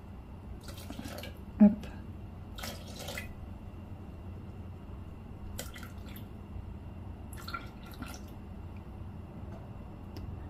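Water trickles slowly into flour for msemen dough in short, quiet bursts separated by pauses, close up, with a brief voice.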